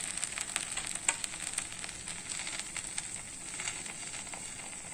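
A bread sandwich fries on a tawa over low gas, giving a quiet, steady sizzle and hiss with small crackles scattered throughout and no talk.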